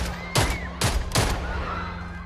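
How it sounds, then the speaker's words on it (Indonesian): Three sharp gunshots ring out in a film scene, loud and close, spaced about half a second apart, each trailing into a short echo over a low steady hum. "Han malah melepaskan tembakan ke arahnya."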